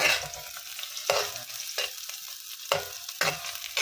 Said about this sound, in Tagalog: Nagisa muna ako ng bawang, sibuyas.